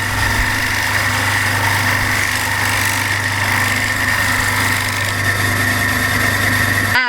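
A power sanding machine smooths a wooden frog toy with a loud, steady motor whine and grinding. It runs continuously for about seven seconds, then cuts off abruptly.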